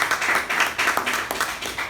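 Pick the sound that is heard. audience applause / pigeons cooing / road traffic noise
audience applause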